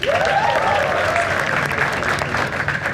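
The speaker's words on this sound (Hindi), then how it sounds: "कुणाल का नाम जोरदार तालियां यार" Loud, steady applause fills a comedy talent show studio, dense and continuous from start to finish, with a voice talking and whooping over it.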